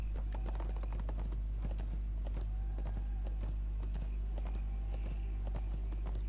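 Hooves of an armored horse clip-clop in the online game ArcheAge, a steady run of rhythmic hoof hits repeating at an even pace, soft and close, with no voices.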